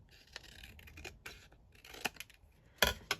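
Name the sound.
scissors cutting down a folio flap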